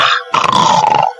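A man imitates a dog, voicing a short rough growl that swells into a harsh, throaty bark-like roar, close and loud, before trailing off.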